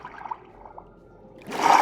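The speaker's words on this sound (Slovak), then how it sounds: "Voda ide až ďalej." Flowing water in the Minecraft video game, a soft, low trickle that swells into a louder, brighter rush near the end of a short stretch.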